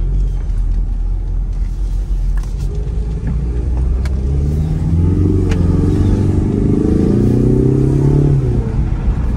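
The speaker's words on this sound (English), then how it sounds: "Yeah, you can definitely hear that turbo." A turbocharged car in track mode with traction control off accelerates hard, windows partly up; a loud, steady engine roar climbs in pitch over nearly ten seconds with no talking.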